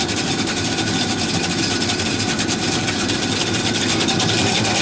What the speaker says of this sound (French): On dirait que les ventilos sont dans l'eau